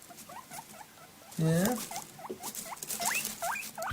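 A pet rodent squeaks eagerly for lettuce: a run of rapid, high chirping squeaks close by, with one louder squeal in the middle, while a person speaks briefly.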